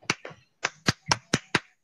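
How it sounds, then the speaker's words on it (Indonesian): Sparse hand claps from a small classroom group applauding group 3, seven sharp, separate claps in an uneven rhythm, close and clear with no talking. "Sekarang beri tepuk tangan kepada kelompok 3 yang sudah mempresentasikan hasil"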